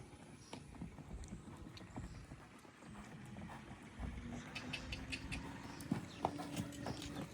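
Hooves of a mare clip-clopping at a steady walk, quiet and somewhat distant, over a low outdoor hum with scattered soft knocks.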